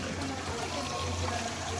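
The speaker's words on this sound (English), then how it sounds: "It's a combination toilet and sink. So when you press the flush button," Water runs steadily from a combination toilet and sink unit as it flushes, a continuous moderate wash of flowing water with no talking.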